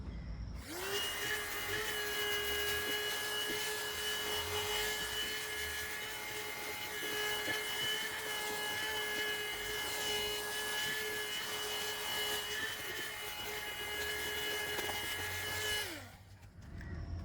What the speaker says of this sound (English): So let's see how well the vacuum cleaner works.